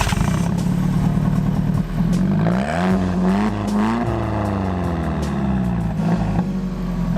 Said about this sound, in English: That does not sound like a normal 4-cylinder. I'll tell you what, the Italians know how to make a motor sound good.